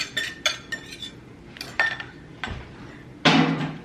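A spoon stirring oats, honey and other oat bar ingredients in a bowl, with several distinct clinks and scrapes spread over a few seconds, close and fairly loud, with no talking.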